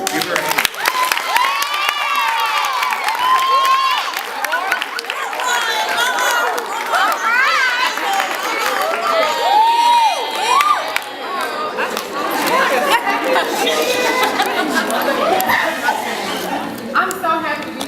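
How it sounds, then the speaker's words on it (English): A young crowd cheers, whoops and shouts for a speaker being introduced, the loud, lively din running unbroken throughout with a few scattered claps mixed in. "I want you to give her a rip-roaring applause"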